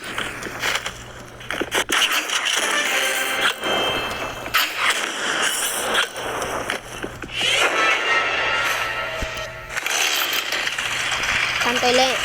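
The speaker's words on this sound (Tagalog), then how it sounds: "Time to eliminate some people with my chainsaw" A chainsaw revs in a video game, a loud buzzing snarl that rises and falls through most of the stretch, with excited talk over it.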